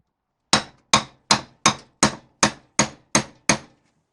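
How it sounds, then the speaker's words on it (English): Nine sharp, evenly spaced metallic hammer strikes ring out close up as old rear wheel studs are tapped out of an Austin Mini hub, each blow decaying quickly before the next. "we'll get these old studs out, and these will just tap out"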